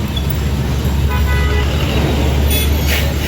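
Busy road traffic outside a crowded Shankar Math temple complex, a steady loud roar of passing vehicles with a short horn toot near the end.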